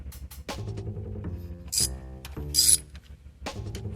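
A ratchet with a 13mm socket turns the lower intake manifold bolts on a Chrysler 300, producing close, quiet bursts of rapid pawl clicking with short pauses between strokes.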